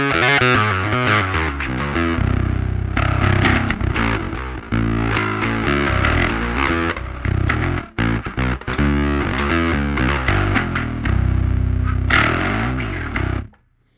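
Loud distorted electric bass riffing through an Aroura DSP Mammoth amp simulator into an emulated Ampeg 8x10 cabinet, thick gritty sustained notes with short breaks, playing alone before cutting off at the end.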